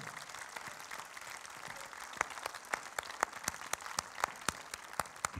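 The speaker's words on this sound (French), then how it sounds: "On peut l'applaudir." Audience applause at a live event at the Cité de l'Espace, a steady patter of many hands with a few sharper individual claps standing out, moderately distant and without speech.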